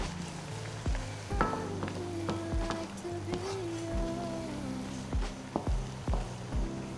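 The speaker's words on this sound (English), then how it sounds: "Alright, it's braising very beautifully, okay?" Hokkien mee noodles braising in lobster stock in a wok, giving a steady bubbling sizzle, with a few sharp clinks and scrapes of a utensil stirring against the pan.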